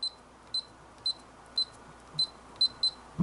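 Electronic keypad on a safe lock giving short, high, clean beeps, about eight evenly spaced single chirps in a quiet room, alone without talk.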